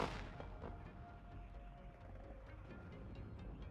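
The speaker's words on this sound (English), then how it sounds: "Over here we're seeing artillery fire coming in from the D30 cannons against this corner" D-30 cannon artillery fire in the wargame WARNO, a distant boom opening the stretch followed by rumbling low impacts and faint scattered reports at moderate volume.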